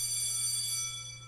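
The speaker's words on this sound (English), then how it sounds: "The class bell rings, disrupting the moment" A school class bell in the video game I Love You Colonel Sanders rings as a steady, bright electronic tone with a low hum underneath, holding level and then fading slightly toward the end.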